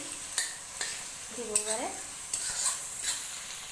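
Two fresh green chilies hit hot oil in a pan for a chicken pulao, giving a soft sizzle with spoon stirring knocks at intervals, fairly quiet, and a brief spoken phrase over it.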